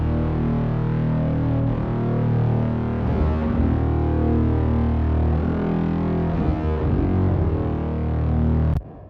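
A deep, gritty distorted synth bass for a bass house breakdown, made in Ableton, drones throughout with its high end rolled off, swelling in a few pulses before cutting off abruptly.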